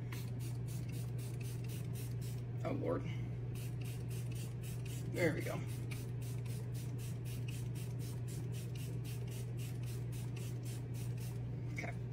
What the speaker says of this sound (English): And now we're gonna do the setting spray.